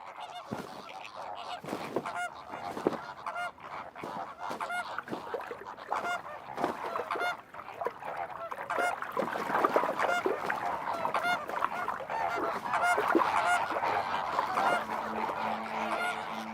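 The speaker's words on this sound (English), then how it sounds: "Flamingos brood more successfully when they can raise their offspring all at the same time." A breeding group of flamingos gives a dense, continuous chorus of honking, goose-like calls that overlap throughout and grow slightly louder toward the end.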